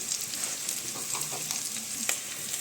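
Alexandrian-style liver frying in oil with onion and bell pepper, a continuous close sizzle with light crackles and occasional stirring scrapes.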